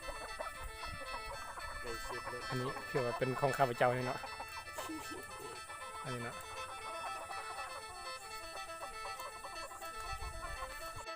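Chicks and chickens cluck and squawk close by in a chick-rearing pen, with a burst of louder calls partway through, while someone talks over them.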